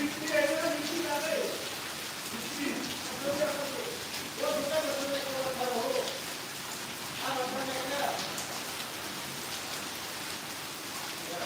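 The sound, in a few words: rain falling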